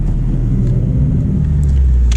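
Porsche 911 of the 991.2 generation, a rear-drive turbocharged narrow-body car, rumbling steadily from inside the cabin with a deep low engine drone and no talk.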